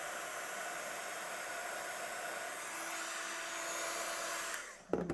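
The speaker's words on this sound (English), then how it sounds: "So if I then take my heat tool and heat this up," A heat tool melts embossing powder on a Christmas card, giving a steady, close blowing hiss like a small hair dryer that continues throughout, then ends with a brief clunk.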